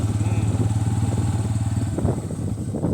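A Bajaj Pulsar N160 motorcycle riding off road, its engine a steady close mid-pitched drone with a few revving surges near the end, and some talk faintly mixed in.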